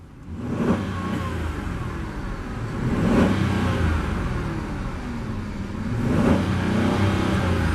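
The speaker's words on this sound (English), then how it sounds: "Also sounds great when you rev it up, which is unbelievable" A 2014 Chevy Silverado 1500 pickup's V8 engine idles loudly nearby, then is revved three times in rising surges that swell and fall back.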